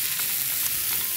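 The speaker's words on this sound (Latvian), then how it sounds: "visu laiku augsta temperatūra, bet neļaujam visam pārāk ilgi stāvēt uz vietas vai nu maisam, vai pamātājam pannu" Vegetables and tofu stir-frying in a hot wok give a steady, close, loud sizzle with faint stirring scrapes throughout, with no voices.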